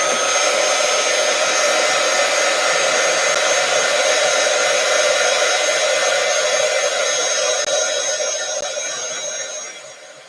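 A hair dryer blows steadily and loudly on a mixed media craft piece, a constant whining whoosh that runs alone for about nine seconds before winding down at the end.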